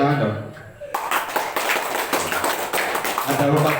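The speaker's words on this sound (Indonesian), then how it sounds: "Tepuk tangan dong." Children clap along at an elementary school motivation and educational magic show, a dense burst of small hands slapping together right after talk, rising and fading with chatter mixed in.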